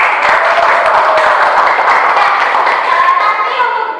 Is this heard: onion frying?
no